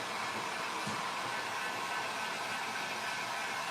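A hair dryer blows steadily and close by, drying a painted thrift store piece before it is sealed; the even, airy roar runs without a break and no one speaks.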